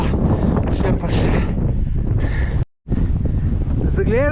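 Wind gusts across a mountain saddle, buffeting the microphone in heavy rushing waves while someone talks over it, with a brief drop to silence partway through.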